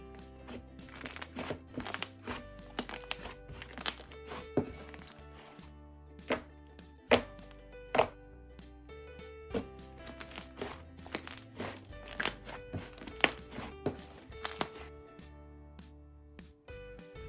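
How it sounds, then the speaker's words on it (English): Butter slime being stretched and squeezed gives off a steady run of wet clicks, crackles and small bubble pops. It sounds close up, with no talking over it. "It's so nice and stretchy, it has great clicking noises and bubble pops"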